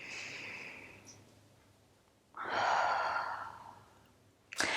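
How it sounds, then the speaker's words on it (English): Slow, deep breaths during a guided breathing exercise, with a long soft exhale, then a fuller, louder breath, and a sharp final puff of air, all close and quiet with no talk. "So let's take maybe 2 more deep breaths here."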